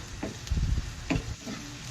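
Garlic, onion, turmeric and chili sautéing in a pan for palos, with short sizzling bursts and stirring scrapes in an uneven rhythm, close and moderately loud with no talk.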